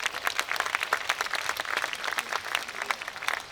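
A live audience at a cultural Renaissance garden in Cleveland gives a round of applause, dense rapid clapping from many hands at steady loudness throughout, with no voices.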